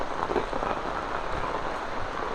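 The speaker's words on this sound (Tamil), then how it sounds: "இந்த தான் மழை பிடிக்குது." Heavy rain pours steadily during flooding in Jaffna, a dense, continuous hiss of drops drumming on surfaces, loud and close with no pauses and no voices.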